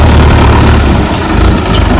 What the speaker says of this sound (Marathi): आता आपण ट्रॅक्टर काढून घेऊया वावराच्या बाहेर